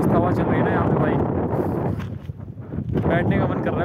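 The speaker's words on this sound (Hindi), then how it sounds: "एकदम इतनी मस्त हवा चल रही है ना यहाँ पे भाई" Wind blows steadily outdoors in a hillside village in Uttarakhand, a loud broadband rush with microphone buffeting, while someone talks over it.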